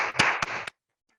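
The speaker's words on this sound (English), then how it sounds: "Can we give them a huge round of applause?" Applause for pupils at a school assembly held over Zoom. The clapping is brief and fairly close, lasting under a second with a few sharp accents before it cuts off into silence.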